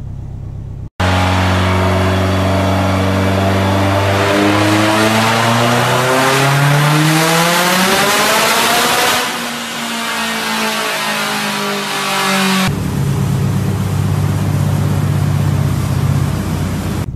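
A Subaru STI fitted with an ETS 6466 turbo roars through a full-throttle pull, its engine note climbing steadily in pitch, briefly dipping at a gear change, then rising again loud and close before cutting off.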